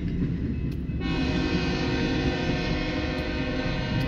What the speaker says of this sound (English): This train is heading north on BNSF Sioux City Sub.